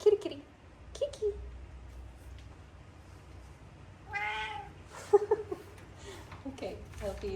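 A house cat gives a clear, drawn-out meow midway, near but moderately soft, with a voice speaking and making small calling sounds around it in a quiet room.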